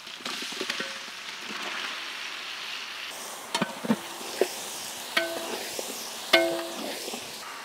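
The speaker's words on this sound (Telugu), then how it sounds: "ఆనియన్స్తో పాటు చికెన్ ఆయిల్లో చక్కగా వేగుతున్నప్పుడే" Country chicken frying in oil with onions and ginger-garlic paste for a large batch of achari chicken curry, a steady sizzle broken by scattered clinks and scrapes of stirring.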